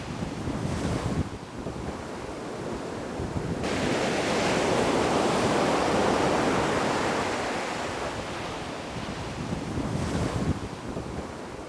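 Ocean waves breaking on a beach along the Pacific coast of El Salvador's Monte Cristo mangrove area, a broad continuous roar swelling and easing, mixed with wind buffeting the microphone, no voices present.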